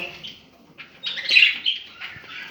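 Budgerigar chicks in a breeding setup chirp and squeak in a close, busy chorus, with a louder burst of calls in the middle and no talking.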